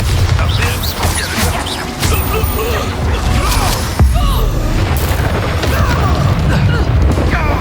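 A Bombarda spell explosion in the video game Hogwarts Legacy during a goblin battle, with heavy booming blasts and crashes over dense, continuous combat noise.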